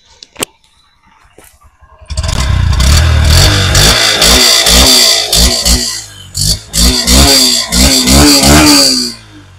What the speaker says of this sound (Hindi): गाइज अभी जस्ट आपने इस गाड़ी के एग्जॉस्ट साउंड को सुना